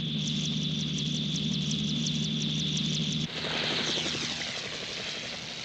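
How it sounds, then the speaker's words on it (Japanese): A mecha or spacecraft touches down in a science-fiction anime, a loud steady engine drone with strong low hum that abruptly shifts midway into a rougher, broader roar, no voices over it. "パルマ中尉着陸しました"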